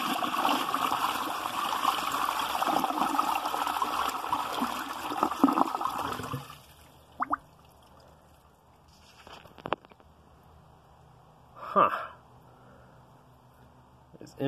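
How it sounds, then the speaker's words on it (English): A 2003 Vortens Vienna toilet flushing with a dry bowl gives a loud, steady rush of water for about six seconds that cuts off abruptly, followed by faint trickles and a few scattered knocks. "we'll show a dry bowl flush here, and then what it would flush like normally"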